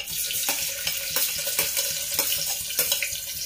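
Onion frying in hot oil with cumin seeds and bay leaf, a steady broadband sizzle with scattered crackles and soft stirring knocks, close and moderately loud, no talking.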